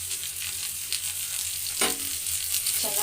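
Chillies and curry leaves fry in hot oil in a pan, giving a steady, bright hiss with a few louder sputtering bursts, close and alone.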